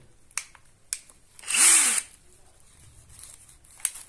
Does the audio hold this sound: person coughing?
no